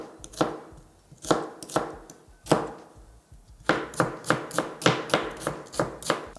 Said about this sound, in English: And dicing 2 large onions.